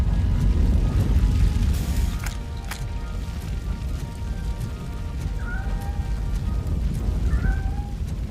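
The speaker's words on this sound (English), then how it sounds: "Is that a cat?" A cat in a fiery video game scene meows twice in short, rising-and-falling cries near the end, over a steady rumbling game background.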